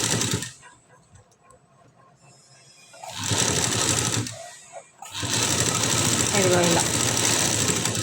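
A sewing machine runs in bursts while stitching a round neckline, the motor whirring loudly for several seconds at a time, broken by a quiet pause in which someone speaks briefly.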